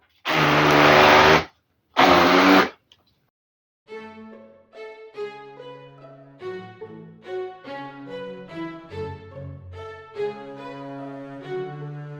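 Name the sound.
blender mixing cheesecake batter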